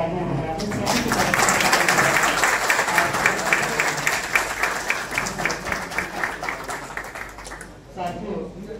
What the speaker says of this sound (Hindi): एक बार एक और तालियां बजाते हैं